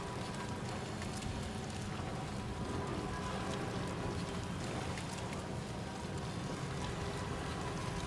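Rain falls steadily in the video game Death Stranding 2, a dense, even hiss of drops on surfaces with scattered sharper spatters, continuous and moderately loud, with no talking.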